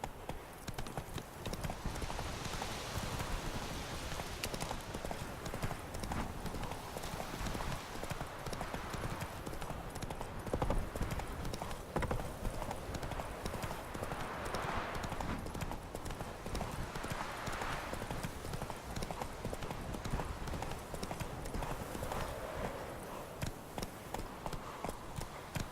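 Rhythmic clip-clop of a horse's hooves at speed in The Witcher 3, steady and continuous throughout over a dense game soundscape, with a brief whinny-like cry in places.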